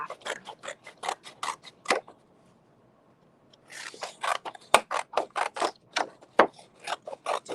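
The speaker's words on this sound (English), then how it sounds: "And then I will use my scissors to go around the heads after." Scissors cut scrapbook or collage paper with crisp, rapid snips in quick runs. After a short quiet pause, the near, dry cutting strokes resume.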